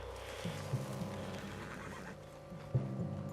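A horse in Red Dead Redemption 2 whinnies a couple of times over a low steady hum, with a few soft hoof clops nearby.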